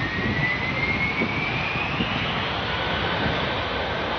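Antonov An-225 with six Lotarev D18 turbofan engines spooling up, a loud continuous jet roar and rising whine, broad and steady without speech.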